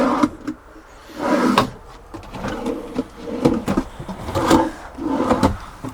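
Drawers in a camper van slide open and shut over and over in a rhythmic pattern, with close wooden rubbing and clunks in repeated strokes.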